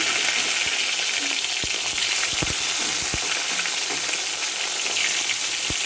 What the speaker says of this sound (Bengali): এদিকে তেল গরম হয়ে গেছে এবার বেগুনগুলোকে হালকা লাল লাল করে ভেজে তুলে নেব পুরো বেগুনগুলোকে